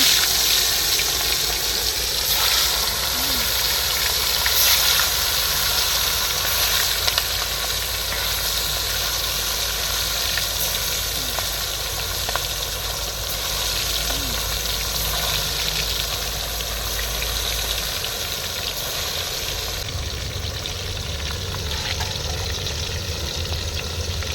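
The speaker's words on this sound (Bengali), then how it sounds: "তেল গরম হয়ে গেছে মাছগুলো ছেড়ে দিচ্ছি" Fish sizzle in hot oil in a pan, a steady, even frying hiss with faint bubbling and crackle that continues unbroken for a long stretch.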